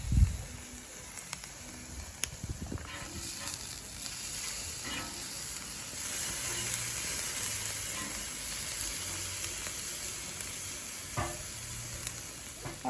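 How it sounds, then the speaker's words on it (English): Jerk pork chops sizzle on a hot grill, a faint, steady hiss with occasional small pops and clicks, fairly quiet and unbroken by talk. "And this pork chops, we will be grilling it 3 minutes per side."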